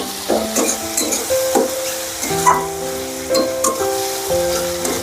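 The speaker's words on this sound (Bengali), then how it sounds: "এই সঙ্গে দিয়ে দেব খাসির চর্বি, দিয়ে একসঙ্গে কষে নেব।" Chopped tomato and goat fat for ghugni frying in a pan while being stirred, a loud close sizzle with repeated scraping and clinking strokes of the spatula and some background tones.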